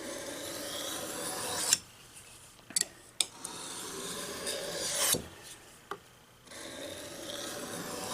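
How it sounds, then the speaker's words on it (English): Knife blade drawn in steady rasping strokes across a fine black Arkansas whetstone, close and fairly loud, with a few brief pauses and sharp scrapes between runs of stroking. "we're just going to do our standard sharpening"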